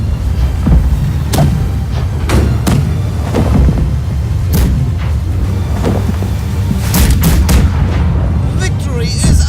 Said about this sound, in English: Cannon ready. We're going for the galleon.